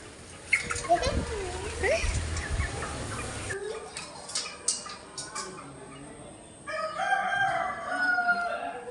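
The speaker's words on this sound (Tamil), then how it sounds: "அதுதான் இங்கே அவ்வளோ கோழி இருந்திருக்கு" Chickens and roosters at a Tamil Narasimha temple, with a few crowing calls and clucks scattered across the scene over steady outdoor background noise and people talking nearby.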